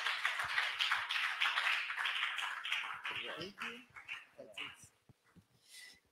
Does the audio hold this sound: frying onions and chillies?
no